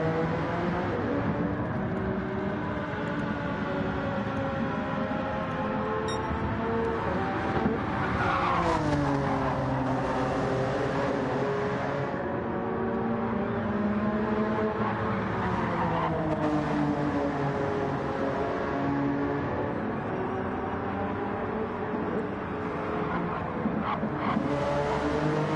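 Race cars lap Fuji circuit in a racing video game, engines droning loudly and shifting pitch through gear changes, with tire squeal under braking and a steady close roar throughout, no voices.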